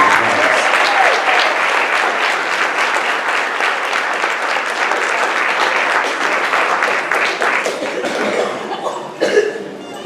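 Large crowd applauding the class of 2017 at a school grand march, steady dense clapping for about ten seconds with scattered chuckles and coughs, tapering slightly near the end.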